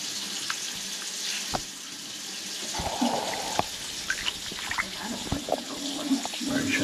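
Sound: running sink faucet water

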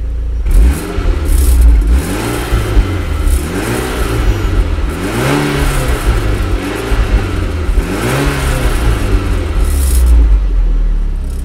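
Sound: Mitsubishi Lancer Evolution X engine revving, throttle pressed

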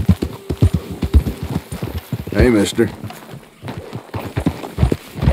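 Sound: horse hooves in Red Dead Redemption 2 video game

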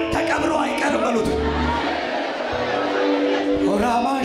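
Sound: congregation ululating and clapping

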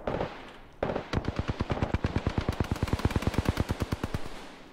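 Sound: gunfire in the video game Apex Legends

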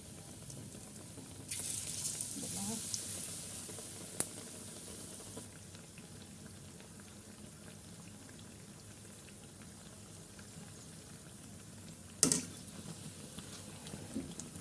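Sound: bread dipped in egg batter frying in hot oil

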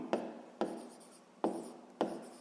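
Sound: writing down a math formula

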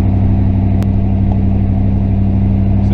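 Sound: Pontiac Firebird car driving with noise from rear

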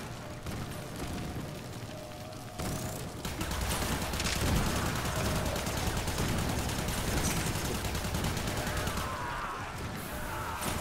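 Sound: gunfire in Warframe video game

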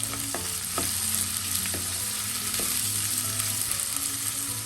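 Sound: small onions being sautéed in a pan

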